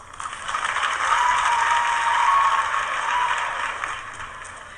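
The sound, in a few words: audience applause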